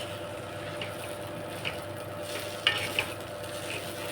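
Semolina stirred in a pan with the gas turned off makes a soft, faint scraping and shuffling over a low steady hum, with a couple of small clinks near the middle.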